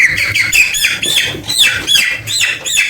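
Broiler chickens about four weeks old squawk repeatedly in a close, loud, dense chorus of overlapping calls with no speech.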